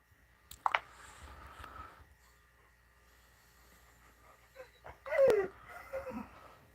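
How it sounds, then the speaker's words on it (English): A puppy whimpers and cries in short, faint bursts, with a sharper yelp near the start and more whining toward the end, in a quiet indoor room. "Why are you crying? Are you a sweet puppy?"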